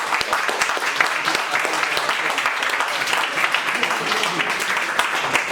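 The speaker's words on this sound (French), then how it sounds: "Un grand main d'applaudissements pour nous." A crowd applauds at a public talk on democratic beers and a microbrewery co-op, dense and steady clapping filling the space without a break, with some voices mixed in.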